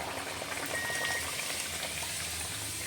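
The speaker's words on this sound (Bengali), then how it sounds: "আমি সাদা তেলে ফ্রাই করছি" Pea-stuffed kachuri frying in white oil makes a soft, continuous bubbling sizzle throughout, fairly quiet and steady with no talk.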